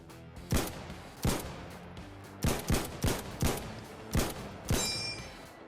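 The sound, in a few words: M1 Garand rifle firing in video game Insurgency: Sandstorm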